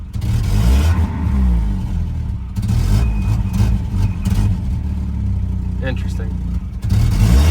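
The engine of a 1991 Volvo 740 wagon idles close by with a rough, steady rumble and a few uneven surges. A brief gap breaks the sound partway through, and a person speaks over it.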